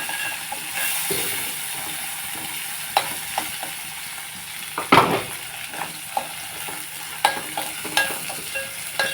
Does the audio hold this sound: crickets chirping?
no